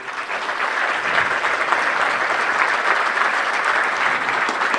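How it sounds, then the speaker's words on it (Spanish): Applause from the audience at a rural agricultural expo, a dense, steady round of clapping from many hands that holds at an even level throughout. "Yo quiero un fuerte aplauso para todos ellos"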